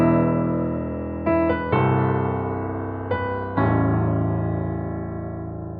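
A rearranged Avengers theme from an animated Marvel episode sounds as a short orchestral passage, a few strong sustained chords entering with punchy accents and slowly fading, no voices over it.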